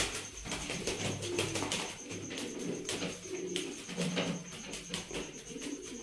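Pigeons at a bird market in Sialkot coo steadily and fairly close, with soft repeated low calls over a constant background hum.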